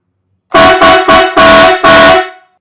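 A loud, blaring Marco Xtreme Blast dual compressor air horn sounds in five forceful blasts, the last two longer, with brief gaps between them.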